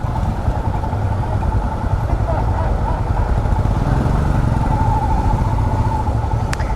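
A motorcycle engine runs steadily and close by at Outpost Lodge in Arusha, Tanzania, with a continuous loud, throbbing low rumble that holds at an even level for the whole stretch, without pauses or revving peaks.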